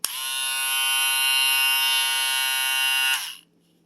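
An electric hair trimmer buzzes loudly and steadily up close for about three seconds, then switches off abruptly.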